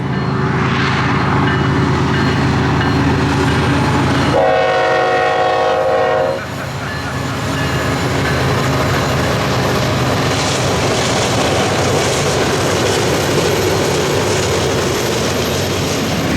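A train horn blares in a long, loud blast over the steady rumble of a passing train along Route 66 in Arizona, with rolling rail noise continuing after it stops.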